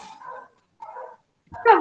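A few short barks from a neighbor's dog somewhere off at a distance, muffled and intermittent, separated by brief silences.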